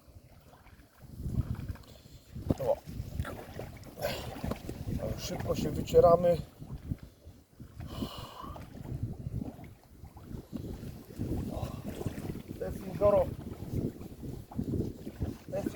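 Strong wind by a lake buffets the microphone in gusty rumbling bursts, with people speaking Polish throughout.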